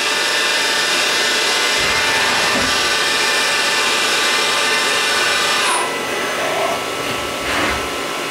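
A Miyano TSV-35E CNC machine runs a program, a loud continuous whine and whir of spindle and axis motors with a few rising and falling sweeps as the tool moves.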